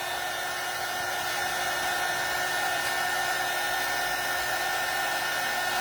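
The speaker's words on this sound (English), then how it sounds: "With the heat tool." A heat tool runs as a steady, loud blowing roar throughout while drying paint on a recycled bottle being made into a primitive-style milk jug, with no voices.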